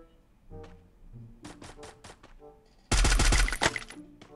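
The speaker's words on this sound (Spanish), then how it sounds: "¿Disparas cuando me voy?" Rapid automatic gunfire in the video game Free Fire, a loud dense burst near the end following scattered lighter game sounds and clicks.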